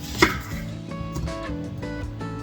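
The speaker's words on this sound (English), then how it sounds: "we're gonna cut up our onions and get them soaking in some buttermilk." A knife chops a red onion on a cutting board, one sharp close chop near the start followed by softer, irregular cutting sounds, with no talking.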